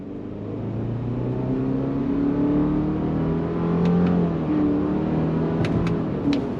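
A 2025 Subaru Forester Sport, driven in paddle-shift manual mode, accelerates from a stop with a steady engine drone rising in pitch as it pulls away, heard from inside the cabin with a few faint clicks near the end.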